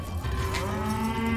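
A cow moos in one long, low, steady call in Mario Strikers Charged Football, loud and close, filling the moment alone without talk.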